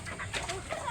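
Chickens cluck softly at feeding time, a few short calls over low background noise in one brief moment.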